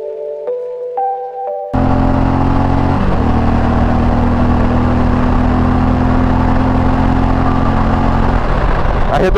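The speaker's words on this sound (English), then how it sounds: "Hit the rev limiter." An Indian Pursuit Dark Horse motorcycle engine bursts into a loud, sustained high-rev roar held against the rev limiter, close and dominant, with a brief dip before climbing on.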